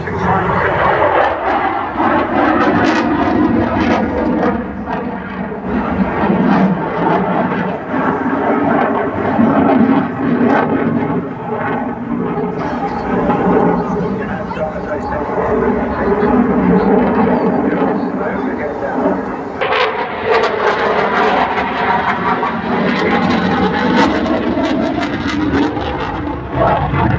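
A jet aircraft in a D-Day 80th anniversary paint scheme flies past at around 600 knots, a loud, continuous roar that swells and holds steady for the whole stretch, with a brief shift partway through.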